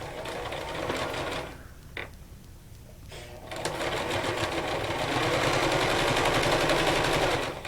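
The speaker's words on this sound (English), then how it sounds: "Careful not to hit those pins with your sewing needle." A sewing machine runs steadily while stitching fabric pinned for a tic tac toe gameboard, with a short pause and a brief start before a long continuous, fairly loud run of fast stitching.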